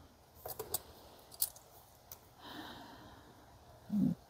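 Scissors cut through thin house tag material in a few quick, faint snips close by, followed by a soft rustle and a short breathy sound at the end.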